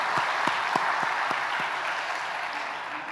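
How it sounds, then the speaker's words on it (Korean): Church congregation clapping together at a Sunday anniversary service, a short burst of indoor applause with a few sharp individual claps that fades off after a couple of seconds. "우리 하나님께 감사와 영광의 박수를 올려드리겠습니다."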